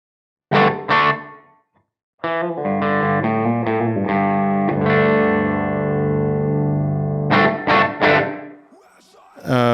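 Distorted electric guitar chords through a Strymon Iridium room reverb ring out, a few quick stabs then a long sustained chord that lingers and decays into the space.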